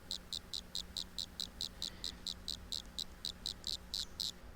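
Yellow pumpkin toadlet, a Brachycephalus frog, calling in a fast, even series of high, chirping cricket-like pulses, about five per second, steady and fairly faint over a low background hum.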